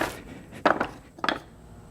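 A long piece of wood struck with a dead blow hammer taps an AC compressor clutch onto a GM OBS truck's HT6 compressor: two close, dull knocks, a pause, then another pair of knocks, heard alone.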